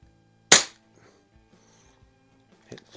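A single sharp gunshot from a Bear Creek Arsenal AR-15 carbine fitted with a red/green dot sight cracks out loud and close, then a quiet gap follows with a faint knock near the end.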